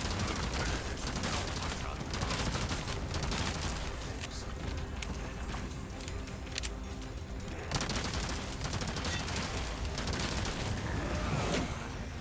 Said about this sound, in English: Did not mean to shoot that, but I will.